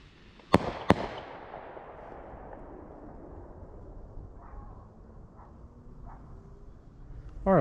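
Two sharp back-to-back launch reports from Shelton Fire Demon parachute rockets open the clip, followed by fading crackle and distant pops, then a sudden louder burst at the very end.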